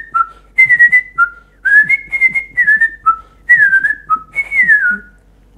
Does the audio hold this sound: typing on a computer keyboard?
no